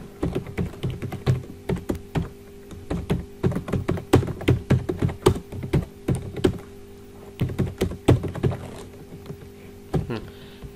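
A computer keyboard clatters as a line of C code is typed, with irregular bursts of close, crisp keystrokes, short pauses between words and heavier thumps from the space or enter key.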